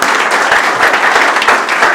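An audience applauds at a special session held by a marine academy, with dense, loud clapping that carries on steadily and evenly throughout.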